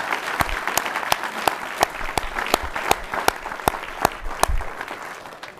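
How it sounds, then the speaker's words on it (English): A board of education meeting audience gives a round of applause for retiring driver Bob Hague, a steady crowd patter punctuated by sharp, evenly spaced individual claps close to the microphone. "I would like to give a round of applause for Bob Hague."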